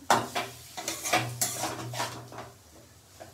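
A Bengali shukto curry being fried down in a pan, with a spoon clanking and scraping against the metal in uneven bursts over a faint sizzle, close by.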